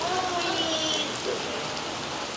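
Heavy rain from Hurricane Milton pours steadily outdoors at a resort, a dense, loud hiss of drops hitting the ground and puddles that holds constant throughout.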